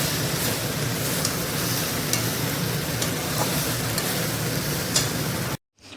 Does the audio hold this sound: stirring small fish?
yes